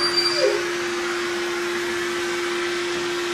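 A household vacuum cleaner runs steadily and close by, a constant whining drone with a strong steady hum through the whole stretch, and a brief soft whimper-like sound near the start.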